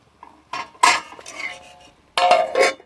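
A metal lid set onto a cooking pot of jackfruit thoran in a village kitchen: a few clattering, clinking metal contacts in close succession, loud and near, with no talk.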